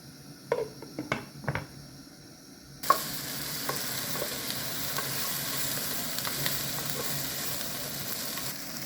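Chopped onions sizzle in oil in a covered pan, starting with a few clinks of utensils, then a steady soft frying hiss once the onions go in.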